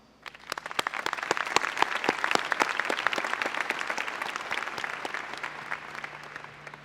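Applause from a high school graduation crowd in 2011, a dense burst of hand claps that swells quickly and holds steady, close and sustained, without talk.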